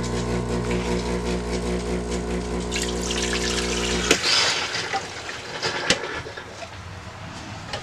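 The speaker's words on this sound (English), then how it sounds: "hit the one cup to start it. And that'll run through the flush." A Breville espresso machine runs its water flush cycle, a steady pump drone that cuts off midway, followed by quieter trickling water and a few clicks nearby.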